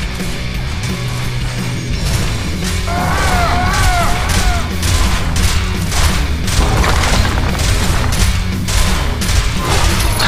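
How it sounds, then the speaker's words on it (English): A Legion tower is destroyed in the Heroes of Newerth video game, with a dense mechanical crumbling and booming rumble plus scattered crashes and a brief chiming effect over steady game ambience. "Destroyed a Legion tower."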